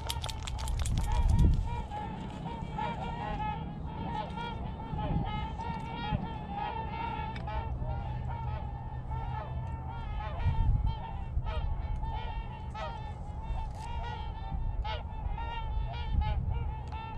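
Swans wintering on Minnesota ice during duck season honk repeatedly in a steady, overlapping chorus from a flock, moderately distant, with occasional louder calls over a low outdoor rumble.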